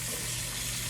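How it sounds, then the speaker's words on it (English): Steady running water from a kitchen tap rinsing chopped broccoli, a continuous close hiss and splash with no pauses. "Rinse them off."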